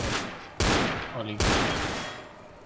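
Gunfire in the Left 4 Dead video game: three loud, sharp shots in quick succession at close range, each followed by a short, noisy decay.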